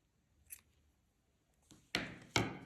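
Scissors snip through crochet yarn on a finished bonnet in three short, crisp cuts: a faint one first, then two louder, close snips in quick succession against a quiet background.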